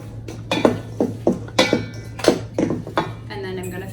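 Bread cube stuffing is mixed in a bowl, a series of about eight rhythmic clinks and scrapes of a utensil against the bowl over a low steady hum.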